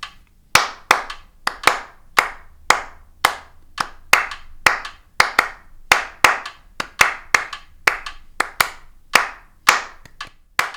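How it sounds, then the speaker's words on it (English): A single person claps out syncopated jazz rhythms, sharp close handclaps in uneven groups over about ten seconds with silence between phrases. "Start first by clapping the rhythms."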